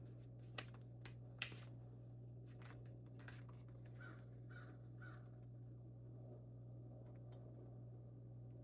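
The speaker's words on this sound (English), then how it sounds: "Can you hear the crows?" Crows caw faintly in the distance, a short run of three evenly spaced calls and a few scattered others, over a steady low electrical hum with occasional soft clicks and taps nearby.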